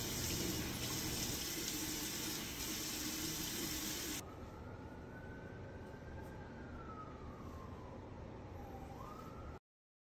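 Water runs steadily from a tap while hair is wetted down before a home mullet cut, a broad continuous hiss that drops in level partway through and carries on alone until it cuts off.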